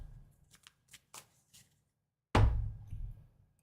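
Tarot cards being shuffled by hand, several soft riffling taps followed by one louder, longer shuffle burst, close and alone without talk.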